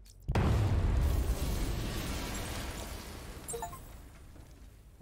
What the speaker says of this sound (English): I need to be at a safe distance before I detonate. And here we go.